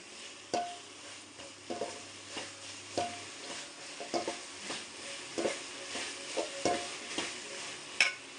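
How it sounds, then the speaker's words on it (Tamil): Tamarind and coconut sauté in a pan while a utensil stirs them, giving a soft sizzle broken by regular scraping and clinking strokes about once a second. "இப்போ புளியும் தேங்காயும் நல்லா வதங்கிட்டு இருக்குங்க."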